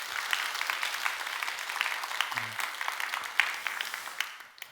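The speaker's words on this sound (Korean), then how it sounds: "다시 한번 여러분 박수 한번 해주시고" Church congregation applauding for daycare teachers during a service, a steady wash of many hands clapping at moderate distance that fades out at the end.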